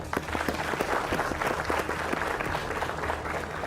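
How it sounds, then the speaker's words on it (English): A TV studio audience on a leadership competition show claps in a loud, close, continuous burst of applause that stays even and dense throughout, with no talk over it. "Round of applause."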